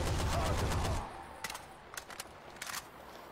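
An AK rifle in the zombie shooter Left 4 Dead 2 fires a dense sustained burst that cuts off after a second, followed by a few scattered distant shots and clicks over a quieter game background.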